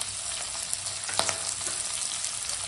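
Tomatoes and red capsicum sizzle in a hot pan, a steady soft frying hiss with small crackles and a brief stirring scrape partway through, fairly quiet and with no voices.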